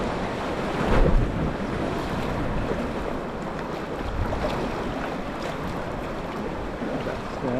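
Sea swell washing in along the Caithness coast between Ackergill and Noss Head, a steady broad rush of surf with a brief louder surge early on, mixed with gusting wind buffeting the microphone, heard from a small paddled boat.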